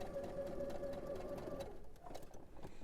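Sewing machine stitching quilt block pieces along the line, steady close mechanical whirr with rapid needle rhythm that slows and stops near the end, no talking.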